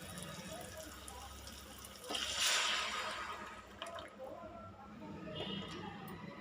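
Tamarind juice poured into a frying pan for egg curry, a steady liquid pour with a brief louder splash and hiss, then softer sizzling and bubbling.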